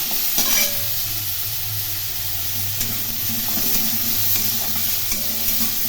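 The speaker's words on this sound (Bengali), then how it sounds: "এখন লো ফ্লেমে আলুগুলো ভালো করে ভেজে নিতে হবে।" Potatoes frying over a low flame in a pan with salt and turmeric give a steady, soft sizzle, with a few stirring scrapes close by.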